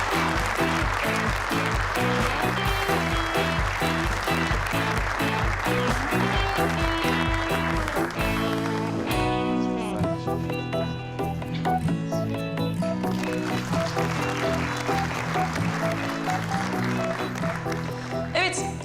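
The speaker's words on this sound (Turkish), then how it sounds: "Buyurun, alkışlarınızla." Steady applause and cheering fill the space over loud rhythmic music, continuing throughout without a break.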